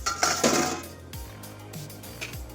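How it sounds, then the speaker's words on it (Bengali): Metal lid lifted off a cooking pot of jute leaf greens, opening with a couple of bright clinks and clatters, then a quieter rattle and soft knocks as it settles. "এবারে ঢাকাটা খুলে দেখি কত বাকি আছে"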